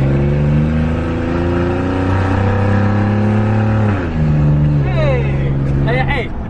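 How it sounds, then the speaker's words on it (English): A lifted truck's engine roars loudly and steadily as it accelerates hard with the pedal floored, pitch shifting as it climbs, with a brief whine near the end. "I'm about to pedal to the floor, buddy."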